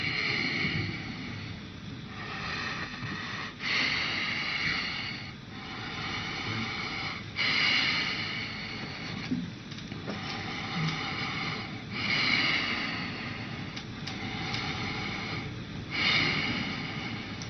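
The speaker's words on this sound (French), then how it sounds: "On entend, il est haletant." Someone pants heavily up close, each loud rasping breath rising and falling in a steady rhythm roughly every two seconds, with no other sounds.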